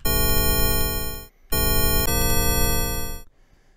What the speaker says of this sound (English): Sounds like a bell